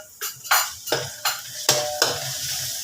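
Garlic sizzling in a hot frying pan with lemongrass, broken by a handful of sharp scraping clatters as a utensil stirs, each followed by a burst of frying hiss.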